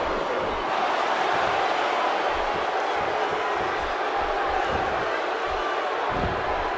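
A large crowd at a wrestling tournament final roars and cheers steadily, a dense, sustained wash of noise with a few louder swells and thumps.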